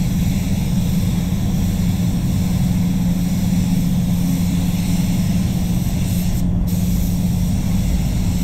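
A steady, close hiss of a spray gun applying pearl coat on a Nissan X-Trail runs continuously and loudly throughout, with a brief break near the end.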